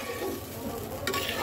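Masala sautéing in a pan with a little water as it is stirred, a steady soft bubbling sizzle with a brief scrape near the end, no voices.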